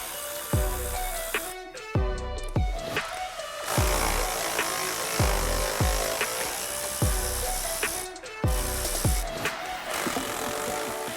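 Ratchet wrench with a 16mm socket loosening outer body mount bolts on a Jeep Wrangler JK, heard as repeated bursts of rapid clicking, each run separated by sharp clanks of metal on metal, close and loud.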